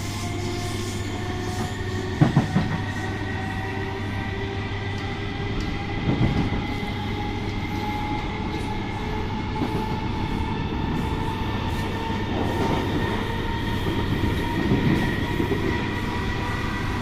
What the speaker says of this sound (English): we finally got a train that's singing elegantly